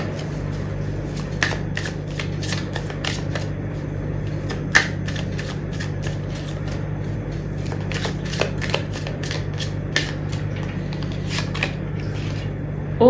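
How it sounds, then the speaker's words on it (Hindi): Tarot cards being shuffled and drawn, a close series of crisp riffling flicks and slaps in irregular bursts over a low steady hum. "एक कार्ड और लेते हैं।"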